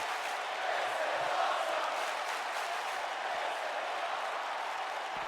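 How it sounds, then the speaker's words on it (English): A virtual arena crowd in the WWE 2K19 wrestling game chants and roars during a ladder match, a steady, dense wash of cheering at moderate volume with no clear breaks. "The crowd chanting, "This is awesome.""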